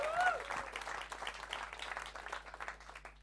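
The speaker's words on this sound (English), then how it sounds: "Can we get one more round of applause for Mr." A comedy club audience applauds a comedian at the Comedy Store, brisk clapping with a brief whoop at the start, fairly close and gradually thinning.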